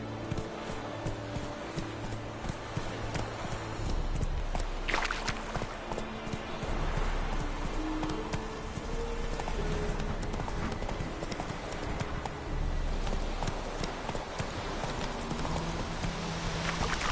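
Horse hooves clip-clop steadily at a gallop in The Witcher 3 on PS4, a continuous rhythmic pounding with a brief whinny, loud and close throughout with a faint voice in the background.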